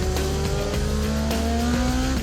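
During a highway chase, a police patrol car tries to spin out a fleeing Lincoln, with loud engines revving hard, tires squealing and the roar of cars at speed, continuous and close.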